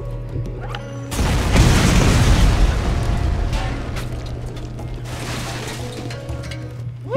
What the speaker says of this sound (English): I heard that blast all the way over here.